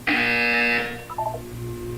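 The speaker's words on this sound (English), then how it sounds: "You will hear a buzzer." A harsh electronic buzzer from the video game Portal 2 sounds loud and steady for under a second, then cuts off, leaving a low hum and a faint trailing tone.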